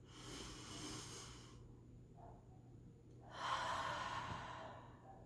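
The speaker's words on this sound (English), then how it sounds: "breathe in kind of loud with our noses and then breathe out with our mouths." Loud breaths drawn in through the nose and pushed out through the mouth during a Sunday school breathing exercise, a long airy exhale followed by a fuller rushing breath, close and clear over quiet room noise.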